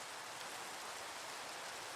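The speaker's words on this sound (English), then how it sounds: "Oh, and it's raining." Steady rain falls outdoors, a dense even hiss of drops on surfaces holding for the whole stretch with no voices.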